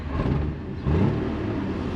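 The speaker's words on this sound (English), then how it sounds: "definitely has an exhaust leak or something" A Jeep engine with an exhaust leak runs in a steady close rumble, its low, rough drone swelling slightly partway through.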